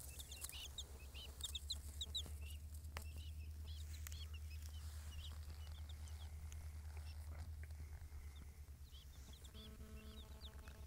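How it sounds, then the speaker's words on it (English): Chickens and guinea hens cluck and chirp in quick, scattered calls, fairly faint and steady over a low electrical hum. "it's attacking the guinea chickens"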